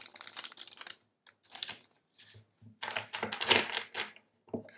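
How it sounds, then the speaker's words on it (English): Tarot cards being shuffled by hand, close and quiet bursts of papery riffling and soft slapping that come in short uneven clusters separated by brief pauses. "Let me shuffle for a second."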